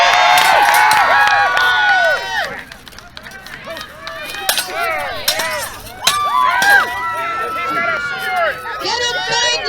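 Spectators at a live sword-fighting bout at the 2021 Maine Renaissance Faire cheer, whoop and shout throughout, with swells of loud crowd noise, occasional sharp impacts and individual voices calling out.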